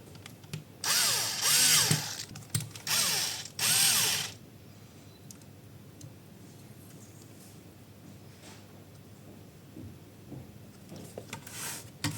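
Power drill driving screws into a Milwaukee M18 12.0Ah battery pack: three loud whirring bursts in quick succession near the start, followed by quiet handling and a faint later burst.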